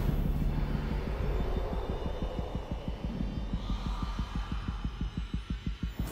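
A fast, rapid heartbeat from the horror video game Alien Isolation thumps in a steady, accelerating rhythm of low pulses over a droning ambient hum, growing more distinct and evenly spaced as it goes.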